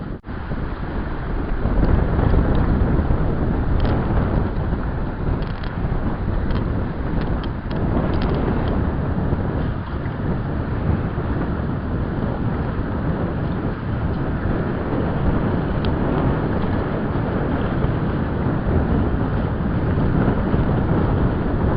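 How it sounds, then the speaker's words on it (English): A boat motor drones steadily over Lake Tahoe, blended with constant wind buffeting the microphone throughout. "Here we got the boat coming right back."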